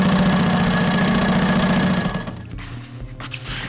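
A sewing machine top stitches a seam on a tote bag made from recycled sails, giving a loud, steady, close mechanical buzz for about two seconds before stopping, followed by quieter handling noise.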